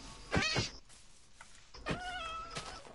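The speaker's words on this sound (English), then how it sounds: "Stupid cat." A cat meows in a video game, two drawn-out calls a moment apart, fairly close and clear with no talk over them.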